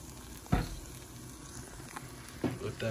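Garlic frying in olive oil in a heated pan: a steady soft sizzle with a few brief louder pops and stirring knocks, at a moderate level.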